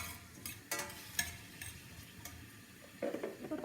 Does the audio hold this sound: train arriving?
no